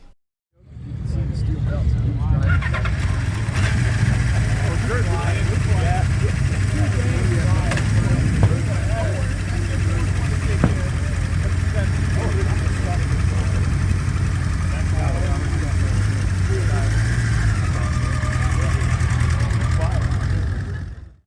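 A classic superbike motorcycle on stock pipes starts and then idles with a low, steady rumble that stays quiet and even throughout, heard close up at a breakfast ride, with no talking.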